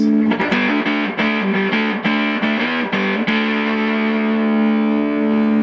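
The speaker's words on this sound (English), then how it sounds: "So very loud fuzz." Electric guitar played through a loud Orphan Fuzz pedal with heavy distortion, a few loud picked notes and short phrases, then a long sustained chord ringing out.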